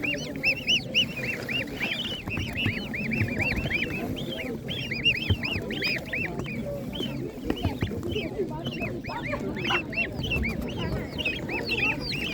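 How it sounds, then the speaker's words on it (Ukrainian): Geese at a Ukrainian animal market honk repeatedly in a noisy flock, their calls mixed with clucking poultry and ducks, with people talking underneath. "І гуси є також більше вже"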